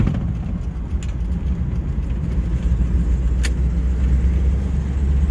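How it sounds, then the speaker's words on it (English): A 1941 Buick Super 56C convertible coupe driving in high gear through a corner without shifting, giving a steady low engine rumble and road noise, loud and continuous with no talking. "I'm just going to leave it in high gear and just take this corner without a shift."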